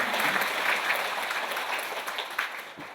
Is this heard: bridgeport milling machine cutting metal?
no